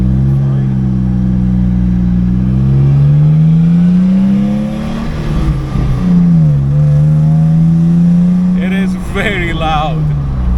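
A Nissan Xterra with a broken transfer case, running in two-wheel drive, drives loudly. Its engine drones steadily with rising and falling pitch as it shifts, and a voice talks briefly over it near the end.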